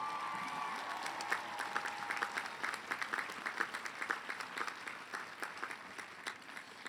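A graduation commencement audience applauds the graduates' families, a steady, moderately distant round of clapping from a large crowd that continues throughout without any talk.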